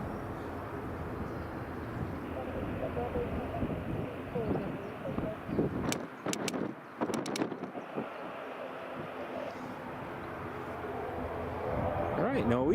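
An ATR turboprop airliner at Edinburgh Airport drones steadily at a distance through wind, with several sharp gusts buffeting the microphone midway.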